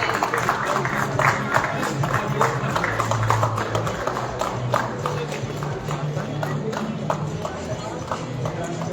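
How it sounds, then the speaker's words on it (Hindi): Dense clapping from a seated audience at an award ceremony, a Fino Payments Bank conference for BC Sakhis under UPSRLM, rattles on steadily and fairly loud while a voice speaks over it. "अब मुझे कहने की जरूरत नहीं है कि रोशनी जी की भी कितनी तालियां बजनी चाहिए"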